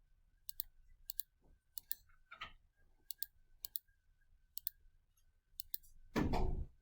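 Expression being typed into a graphing calculator: a series of sharp, evenly spaced button clicks at close range, followed by a brief louder rustle at the end.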